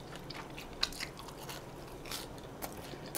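Homemade fried cheese sticks are bitten and chewed up close, giving faint, scattered crunches with a few sharper crisp bites over quiet background, with no talking.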